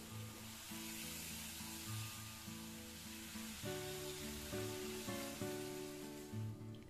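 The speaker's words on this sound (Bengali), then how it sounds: "এবারে ভেজে নেব।" Prawns frying in mustard oil in a pan give a steady, close sizzle throughout, with no voices over it.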